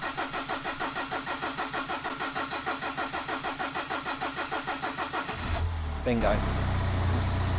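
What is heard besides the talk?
BMW 318 diesel engine starting after fuel filter replacement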